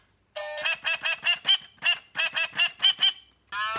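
Electronic toy keyboard set to a duck voice, playing a rapid run of about a dozen bright synthetic quacks in a rhythmic melody, close and clear with no talking.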